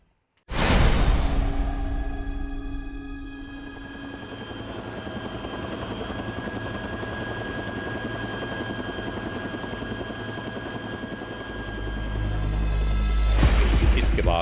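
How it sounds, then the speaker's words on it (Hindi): A helicopter's engine whines up and its rotor thrums steadily and loudly nearby, building to a heavier roar near the end. "इसके बाद हेलीकॉप्टर के जरिए ये एहलकार अपनी मंजिल मकसूद की जानिब रवाना हो गए।"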